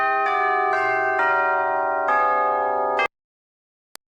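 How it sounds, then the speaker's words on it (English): A tubular bell of the church-bell kind is struck five times in succession, each stroke ringing with a bright sustained tone before the sound cuts off abruptly, loud and close. "Next, you have a tubular bell."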